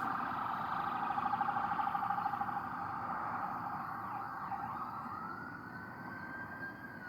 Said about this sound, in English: the sounds of a siren coming from outside. It's really from a distance